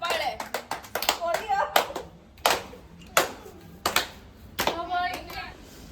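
Sharp hand claps ring out in irregular bursts during a playful laughing game at home, loud and close, mixed with excited children's voices and chatter.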